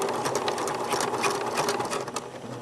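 A sewing machine runs steadily, back stitching along an exposed zipper, a continuous close whirring of rapid needle strokes with no pauses throughout.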